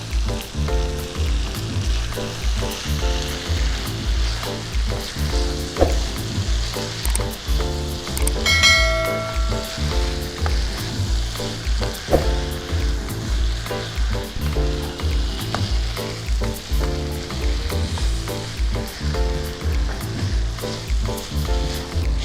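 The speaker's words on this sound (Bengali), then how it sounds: "এখন ভেজে রাখা শুটকি মাছগুলো দিয়ে দিচ্ছি।" Loitta shutki, dried Bombay duck that was fried earlier, goes into a pan of Malabar spinach. A steady, close sizzle of frying runs throughout, with a brief clink of a utensil partway through and no talking.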